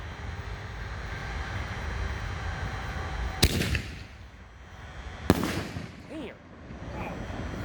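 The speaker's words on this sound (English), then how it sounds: "Okay, we got Ammo by Miracle, shell number 2." Miracle Ammo canister firework shells launching and bursting outdoors: two sharp loud booms, a few seconds apart, over steady crowd and ambient noise, with a brief crackling tail after the second and a voice speaking briefly.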